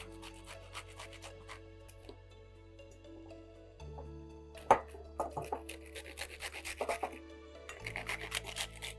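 Food scraped against a kitchen grater while preparing okro soup, soft rasping strokes that start sparse and then come in quicker bursts, quiet and close over a faint tonal background.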